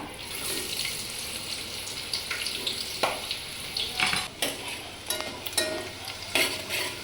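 Torn bay leaves and half a finely chopped onion frying in oil for Malvani chicken vade, a steady soft sizzle with occasional clinks and scrapes from a utensil in the pan.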